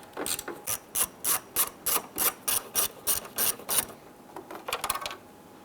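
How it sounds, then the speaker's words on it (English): A ratcheting driver loosens a 7mm screw on a panel of a 1995-2001 Ford Explorer, a close, crisp run of about a dozen evenly spaced ratchet clicks, then a few quicker, looser clicks as the screw comes free. "you're going to locate two 7mm screws. Loosen and remove those."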